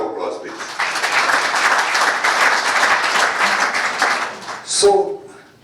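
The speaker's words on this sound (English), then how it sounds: "Another round of applause, please." An audience at a community gathering gives a round of applause for several seconds. The clapping is steady and fairly loud, with a voice speaking briefly as it ends.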